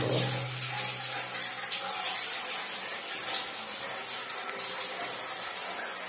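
A tap runs steadily with hot and cold water, a continuous broadband gush of moderate loudness with a brief low hum at the start and no talking.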